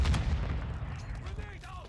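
A frag grenade goes off in the video game Modern Warfare II: one loud, close boom that rumbles and fades over about two seconds, with gunfire-like crackle in the tail.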